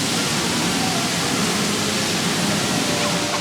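At a Blackpool Pleasure Beach theme park ride, a mist effect machine running at full output hisses in a loud, steady, broadband rush with no break.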